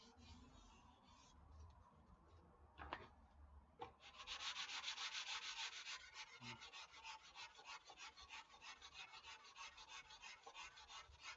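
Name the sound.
gentle final sanding of a foam repair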